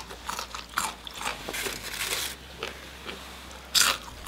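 Crunchy fried semolina fries are bitten and chewed close to the mic, giving a quick series of crisp crackling crunches with a sharp final snap and no talking.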